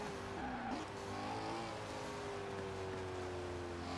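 A race car driven in Forza Horizon 4, with a Koenigsegg Agera RS and a Pagani Zonda Cinque Roadster in play, gives a steady engine drone with shifting pitch and a brief tire squeal, continuous and moderately loud without talk.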